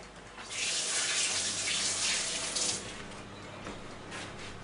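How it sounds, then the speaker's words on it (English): Kitchen tap water running steadily at moderate volume while hands are rinsed, a continuous hiss that swells for about two seconds and then eases to a softer flow. "Just going to give my hands a little rinse."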